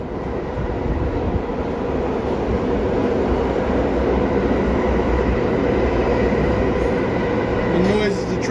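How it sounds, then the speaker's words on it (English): A train rumbles through a station in Harlem, New York City, a loud, steady roar of rail noise filling the street-level surroundings, with a short squeal near the end. "The noise is the train station."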